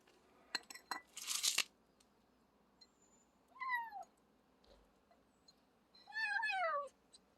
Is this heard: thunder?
no